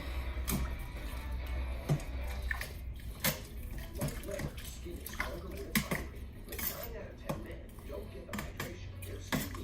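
Red Thai chicken curry with tofu being stirred in a pot, giving repeated clinks and scrapes of a utensil against the pot over a low steady hum, with faint voices in the background.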